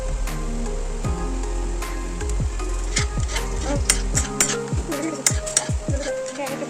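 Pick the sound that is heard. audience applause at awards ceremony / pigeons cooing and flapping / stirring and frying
stirring and frying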